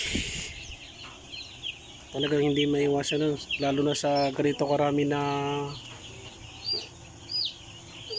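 A person talks while three-day-old broiler chicks on a farm cluck and call nearby in bursts over several seconds, with high chirps scattered in the background.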